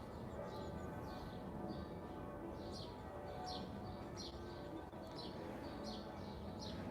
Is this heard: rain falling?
no